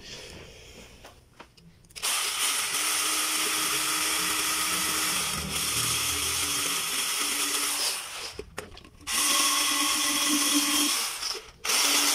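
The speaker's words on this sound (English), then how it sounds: "So I use, this mixer." An electric mixer blends cosmetic ingredients in a small factory setting. The motor starts up loudly with a high whine, runs steadily for about six seconds, stops briefly, then runs again before cutting off.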